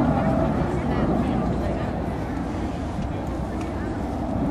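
A Rolls-Royce Avon powered Hawker Hunter jet at an airshow gives off a steady, broad roar that holds at an even level throughout, heavy in the low end, with no clear talk over it.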